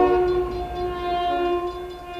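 A small toy train sounds its horn in steady, sustained tones over a continuous low rumble, fairly loud and close, with no talking.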